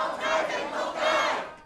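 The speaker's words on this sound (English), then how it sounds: "Protesters targeted several malls today, marching and chanting "Free Hong Kong."" Crowd of protesters chanting together inside a Hong Kong shopping mall during Christmas demonstrations, a loud, dense wall of massed voices rising and swelling in two waves, reverberant and continuous with no single speaker standing out.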